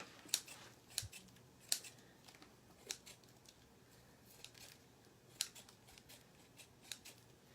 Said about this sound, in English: Give them a little trim here.